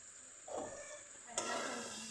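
Soybeans stir-fried for chili soybean in a pan on low gas, a soft sizzle with a scrape of stirring and a sudden louder burst of frying, close and quiet.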